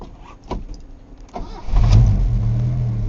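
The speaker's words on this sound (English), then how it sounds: "this truck actually starts real well too" An old truck engine cranks briefly on a cold start, then catches and roars to life, settling into a loud, rough idle close by.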